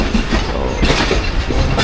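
The 47 Up Rehman Baba Express rolls past close by on the loop line at Suhawa railway station, a loud rumbling rush with rhythmic wheel clatter over the rails; no voices.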